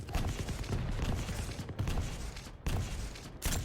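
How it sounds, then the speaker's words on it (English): Machine gun fire in a Quake duel match, dense sustained bursts of rapid shots broken by brief gaps, loud and close with no voices. "Started machine gun not dealing any damage, I think"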